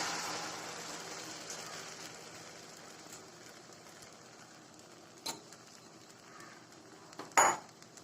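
A mixture of rice water and rice flour is poured into a hot pan for a halwa, giving a soft, broad hiss that fades over a few seconds. A couple of faint clinks follow near the end.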